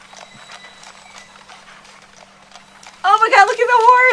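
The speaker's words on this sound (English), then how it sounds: "Oh my God, look at the horse!" Horse hooves clip-clop faintly and rhythmically in a film scene, followed by a loud whinnying neigh near the end, with people talking over it.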